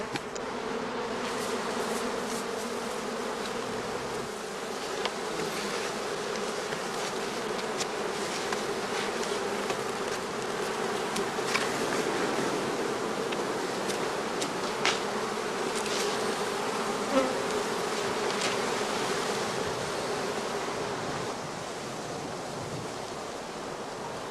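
A dense, steady buzzing of many honey bees hovering close by around straw skep hives, continuous and unbroken throughout with no voices.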